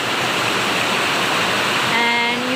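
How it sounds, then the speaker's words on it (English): Steady broadband wash of hard rain pouring down outdoors in Cambodia, loud and continuous throughout with no break. "We can see here the nice rain is going on"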